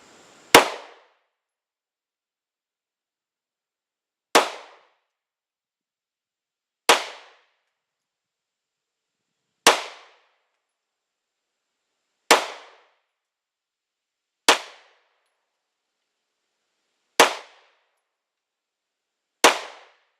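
Glock 19 Gen 5 pistol with upgraded sights firing at a range target, eight sharp, isolated shots spaced a few seconds apart, each a crisp crack with a short decay into silence.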